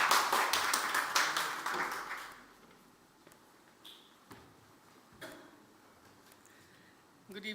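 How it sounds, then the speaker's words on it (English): Applause from a modest audience at an energy equity roundtable, a brief burst of clapping that fades within two seconds, followed by quiet room noise with a few faint scattered taps and knocks. "So if we can all please give her a round of applause."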